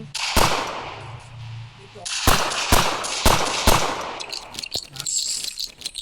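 Gunfire in the Roblox game Westbound: several sharp, loud shots, one early and then a quick run of four or five, with faint game ambience and a little voice in between.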